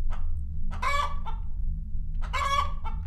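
Chickens cluck in the horror video game TAMAGORUDO, two clear bursts of clucking calls separated by a pause, set over a steady low hum.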